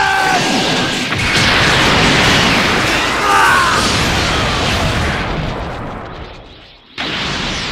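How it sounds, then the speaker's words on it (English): A beam attack from Dragon Ball Legends, Special Beam Cannon, erupts into a long, loud roaring explosion with crashing bursts, fading briefly before a renewed blast at the end. "Special Beam Cannon!"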